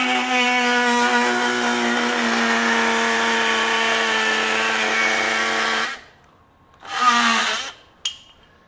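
A RYOBI Gen 2 18V One+ HP oscillating multi tool (PBLMT51B) fitted with a Milwaukee regular wood blade buzzes loudly and steadily through wood for about six seconds, stops, then gives one short burst of cutting.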